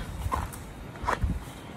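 A few soft hoof steps of a plough bullock plod slowly on the ground, close by and unhurried, with quiet outdoor background in rural Konkan.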